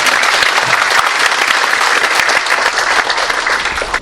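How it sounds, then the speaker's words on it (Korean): Loud, steady applause from a large audience at a regional education book concert, continuous clapping filling the space for about four seconds with no talk over it. "박수 한번 칩시다"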